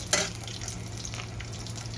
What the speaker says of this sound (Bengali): ফোড়নটা হালকা একটু ভেজে নেব।